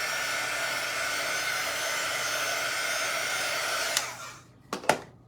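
A hair dryer blows steadily on a sticky craft sheet for about four seconds as a loud, even whoosh, then cuts off, followed by a couple of brief clicks or taps.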